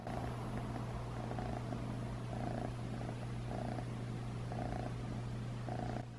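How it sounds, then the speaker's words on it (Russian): A domestic cat purrs steadily and close, a soft rhythmic rumble repeating with each breath over a faint electrical hum. "Слышите, как он мурлыкает?"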